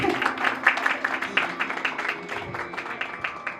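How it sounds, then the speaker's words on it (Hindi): Audience at a birthday tribute event for a singer claps in a quick, fairly even patter, moderately loud and near, tapering slightly toward the end. "उनके लिए जोरदार तालियां बजाइए"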